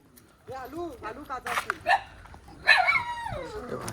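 A small dog gives a few high, yappy barks and whimpers mixed in with people talking nearby.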